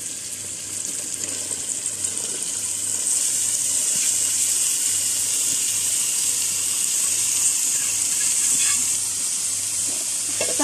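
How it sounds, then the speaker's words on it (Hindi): Mixed vegetables go into hot masala in a pan, setting off a loud, steady sizzle and hiss that holds evenly throughout with no talk over it. "अभी हम मसाले में सब्ज़ी डाल देंगे।"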